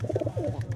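Pigeon cooing up close, a series of soft rhythmic low coos repeating steadily, from a pigeon being shown for sale.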